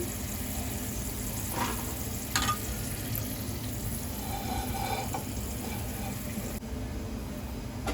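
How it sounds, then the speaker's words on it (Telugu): Sweet corn kernels fry until crispy in hot oil for a restaurant-style crispy corn dish, a steady, dense sizzle that fills the whole stretch with a few brief clinks and scrapes over it. "ఇవి స్వీట్ కార్న్ క్రిస్పీగా బాగానే వేగినాయి"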